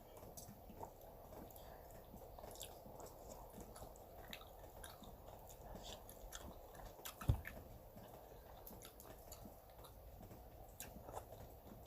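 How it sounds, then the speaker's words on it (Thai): Faint, soft chewing of Isan-style catfish boiled with fermented fish sauce, a quiet, steady mouthing and squishing of food with one brief louder knock partway through and no talk. "เคี้ยวดีๆนะ"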